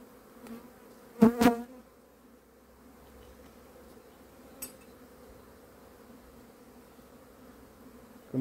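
Honeybees buzzing at an outdoor hive in cold weather, a low steady hum throughout with a loud close burst of buzzing near the start as a bee passes the microphone.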